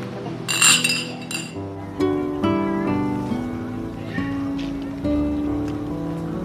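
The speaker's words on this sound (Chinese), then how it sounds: "为弟弟弟媳妇儿干杯。" Glasses clink together in a toast during a family celebration, a bright burst of chinks near the start, then a few lighter taps over background music.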